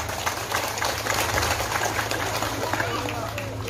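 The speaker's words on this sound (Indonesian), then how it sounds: "Tepuk tangan untuk Nahdlatul Ulama." A crowd at a Nahdlatul Ulama religious gathering claps in a dense, steady burst of applause that fills the hall for a few seconds at fairly high volume.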